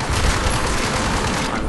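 Enemy turret gunfire in the shooter game Hour of Victory: a dense, continuous burst of rapid shots filling the whole stretch, loud and steady with no pauses.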